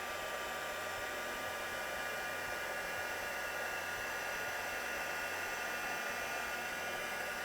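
A heat tool melts embossing powder on a stamped card, blowing a constant, quiet, hissing whir like a hair dryer, steady and alone throughout.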